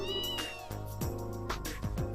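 A cat meows several times in the video game Trails in the Sky, with short rising and falling cries repeating over steady background music.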